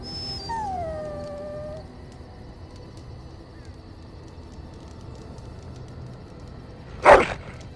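A dog in the Dragon Age: Origins video game gives a falling, whining howl at the start, then a single sharp bark after several seconds of low background hum.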